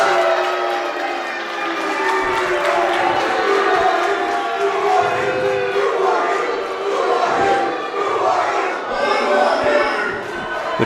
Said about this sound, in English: Crowd chanting, "Who are you?"